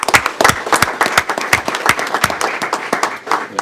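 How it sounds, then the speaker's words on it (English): A round of applause from attendees at a city council meeting, with steady, close clapping from a modest group throughout, sharp individual claps standing out. "I'd like to get a round of applause for him as well."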